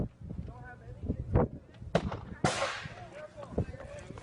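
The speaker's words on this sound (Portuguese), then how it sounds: "Dá para escutar uma pequena explosão claramente." A sharp, hissing burst of a small explosion cracks out midway, surrounded by scattered knocks and pops with voices nearby.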